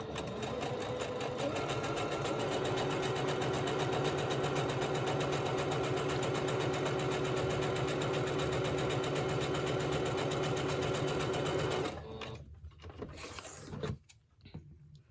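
A sewing machine stitches steadily across a small fabric pocket on a Christmas-in-July craft project, a continuous close motor whir for about twelve seconds before stopping, followed by faint handling noises.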